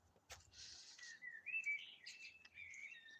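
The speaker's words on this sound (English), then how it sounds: "Every time I come out here and I hear the birds, the blackbirds" Blackbirds sing outdoors in a clear series of whistled phrases and chirps, close and moderately loud, with faint background noise.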